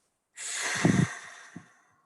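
A single long, swishing breath pushed out through a partly open mouth, close and fairly soft, fading away over about a second and a half.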